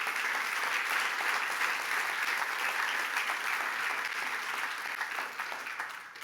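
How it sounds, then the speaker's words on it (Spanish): Sustained applause from a church congregation during a sermon, a dense, even wash of clapping that holds throughout and eases slightly at the end. "dele fuerte el aplauso al Señor"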